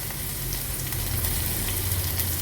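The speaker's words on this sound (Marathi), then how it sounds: "नंतर ह्याच्यामध्ये अगदी छोटासा एक कांदा घेतलाय बारीक चिरून, तो ॲड करूया." Finely chopped onion fries in a cumin tempering for a Maharashtrian veg thali, a steady close sizzle with a constant crackling hiss throughout and no talk.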